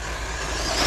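Team Corally Radix6 XP 1/8 off-road brushless RC buggy on 6S power, its motor revving hard under throttle in a steady high-pitched whine that swells toward the end, close and loud, with no voices.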